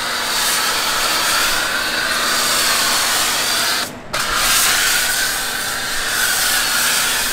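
An electric blower dries a Ford F-150 EcoBoost truck with a loud, steady rushing roar that cuts out for a moment partway through, then resumes.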